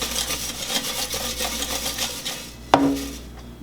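Sweet potato fries shaken in an air fryer basket, a steady rattling scrape of fries against the metal basket, ending in one sharp knock as the basket goes back in.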